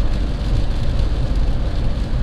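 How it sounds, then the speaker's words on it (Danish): Rain drumming on a car while it drives along a country road, a loud, dense, steady patter over low road rumble, close and continuous, with no speech. "Nu er det regn, mere regn, våd."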